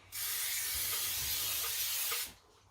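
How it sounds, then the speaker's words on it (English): Cake release spray sprayed into baking tins, one continuous close hissing burst lasting about two seconds, then stopping abruptly. "Give it a good shake and spray it in those tins."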